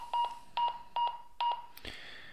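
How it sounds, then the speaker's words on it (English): A Baofeng BF-T3 walkie talkie gives four short, identical electronic beeps at a steady rhythm as its button is pressed, followed by a brief click and a softer burst, close and faint. "If we press the menu button five times,"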